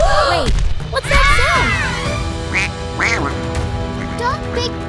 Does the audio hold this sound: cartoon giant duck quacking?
yes